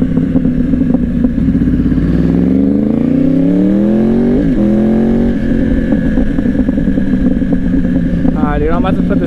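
A motorcycle being ridden, its engine loud and close with rising and falling pitch as it accelerates and shifts, over steady wind and road noise, with a voice talking over it.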